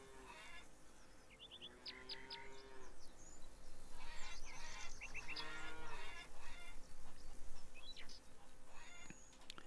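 Cows moo repeatedly on a farm in the video game Farmers Dynasty, the calls mixed with bird chirps and a cat's meows over a steady ambient background.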